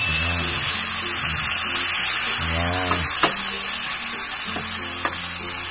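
Pork adobo frying in a pan with oil as it is stirred, giving a steady close sizzle with scraping stir strokes and a few sharp utensil taps against the pan.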